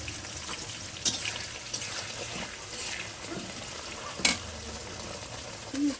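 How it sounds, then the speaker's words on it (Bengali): Chopped onions with a little salt frying in a pan for a desi rooster curry, a soft steady sizzle with occasional spoon scrapes and clinks against the pan. "তাহলে পেঁয়াজটা তাড়াতাড়ি ভাজা হয়ে যাবে"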